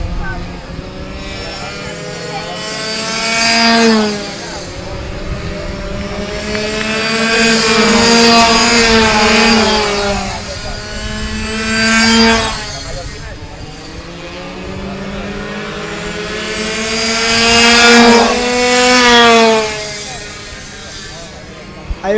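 MiniMoto minibike racing engines screaming around the Renn Arena track, high-pitched revs rising and falling in repeated waves as the bikes pass, with a commentator talking throughout.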